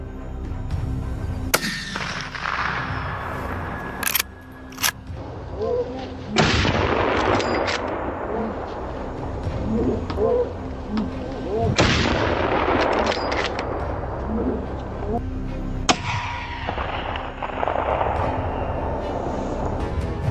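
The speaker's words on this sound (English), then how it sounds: "Simultaneously, from all sides, gunfire erupts" Repeated loud bursts of gunfire, sharp cracks and heavy booms firing in clusters, echoing over a continuous rumbling background.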